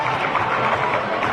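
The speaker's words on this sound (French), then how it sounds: "Oui, on peut les applaudir." A crowd claps and murmurs through a short stretch at a girls' under-18 basketball cup final, a steady wash of applause with no single standout sound.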